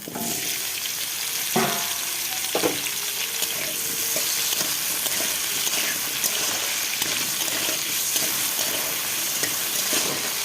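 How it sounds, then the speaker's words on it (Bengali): Taro pieces sizzle steadily in hot oil in a wok, a dense continuous frying hiss with a few louder crackles and stirring scrapes near the start, close and unaccompanied by speech. "তো বন্ধুরা কচুগুলো এখন ভেজে নেব।"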